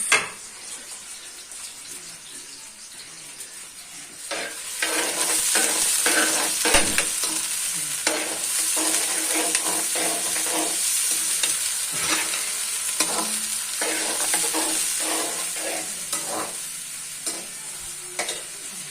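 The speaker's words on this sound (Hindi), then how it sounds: "इसको करते हैं फ्राई।" Food sizzles steadily in a hot pan while a spoon stirs and scrapes it in repeated knocks, close and fairly loud, with a faint tap-water hiss in the background and no talking.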